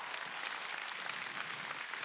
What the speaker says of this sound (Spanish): Dale un aplauso fuerte a la palabra.